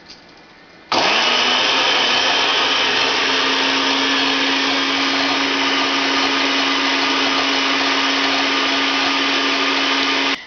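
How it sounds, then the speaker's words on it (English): A blender whirs raw tomato soup ingredients, kicking on abruptly after a quiet moment and then holding a loud, steady high-pitched motor drone until it cuts off at the end. "So this is going to go in the blender for about a minute."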